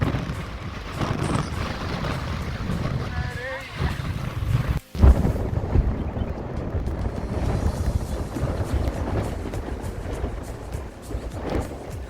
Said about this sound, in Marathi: एवढी जोरात हवा चालू होती वरती